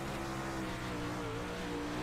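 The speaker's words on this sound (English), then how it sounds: "listen how the car was sputtering" A race car engine roars steadily and close during a championship night race, its note wavering and stuttering briefly as it misfires, with no voices over it.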